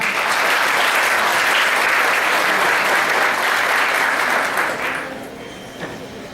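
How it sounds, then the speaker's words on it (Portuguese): Workplace audience clapping to welcome a newly arrived teacher on a festive day, a brisk, full burst of applause that holds for several seconds, then thins out and fades to scattered claps. "Receba nossas palmas"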